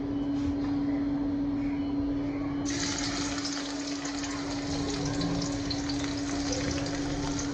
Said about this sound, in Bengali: চুলায় কড়াইটা বসায় নিয়ে নিয়েছি এখন দিয়ে দেবো পেঁয়াজ কুচি